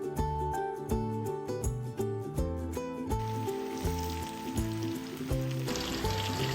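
Chicken 65 pieces deep fry in hot oil, a hissing sizzle that becomes plainer partway through, heard under steady melodic background music.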